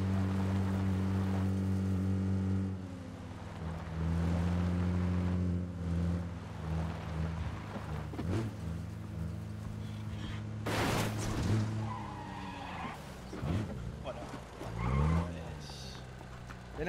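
A vehicle engine drones and shifts pitch as a car drives in PUBG on the Erangel map, loud and continuous, with tire squeals, bumps and gunfire-like cracks later and voices talking over it.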